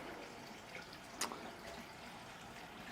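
Soft, continuous flow of water into an outdoor open-air bath at a Takachiho ryokan in Japan, quiet and steady with one brief brighter splash or drip partway through.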